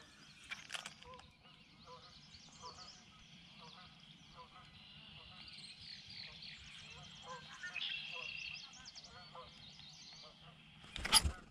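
A flock of geese honks continuously at a distance near water, a steady chorus of calls that swells near the end, with a person speaking over it.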